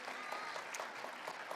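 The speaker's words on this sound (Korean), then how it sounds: "큰 박수로 격려했으면" Applause from a church congregation encouraging children moving up a class level, a steady dense patter of many hands clapping throughout, moderately loud and without speech.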